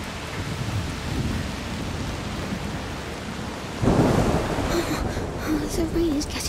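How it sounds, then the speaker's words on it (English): Heavy rain pours steadily in a thunderstorm in the video game A Plague Tale: Requiem, with a loud thunder rumble swelling partway through and voices talking over the downpour near the end. "The rain is getting worse."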